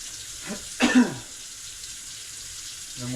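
Water splashes briefly from a tap while a muskrat hide is rinsed, a short burst of running water amid quiet indoor background.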